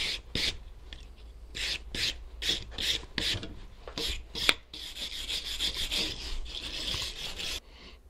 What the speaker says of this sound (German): Einfachste Art, eine normale Feile.